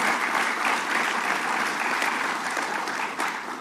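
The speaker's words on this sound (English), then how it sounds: "Let's give Senator Flanagan a big round of applause." Continuous round of audience applause at a heroin and opioid legislative package bill signing, a dense, even wash of many hands clapping at a moderate distance, steady throughout with no voices.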